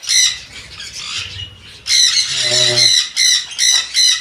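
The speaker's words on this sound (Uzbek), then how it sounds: "Yanday aratinkamizni jo'jasi bor." Jenday conure chick squawking loudly and close, a run of harsh repeated calls in quick bursts, with a voice talking briefly in between.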